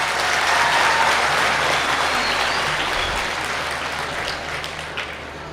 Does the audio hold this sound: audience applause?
yes